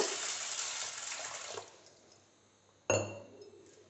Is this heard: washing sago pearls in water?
yes